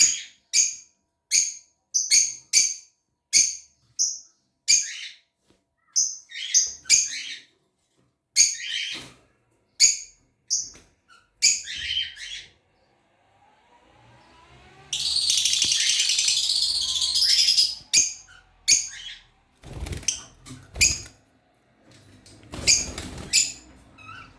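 Pet lovebirds (cennet papağanı) kept as a group: a rapid series of sharp, close chirps, then a burst of harsh squabbling chatter, then more scattered tweets, with no talking.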